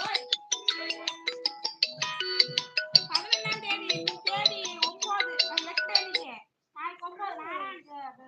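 A melodic electronic phone ringtone plays in a steady run of bright, tinkling chime-like notes, then pauses and resumes briefly, close and fairly loud with no talk over it.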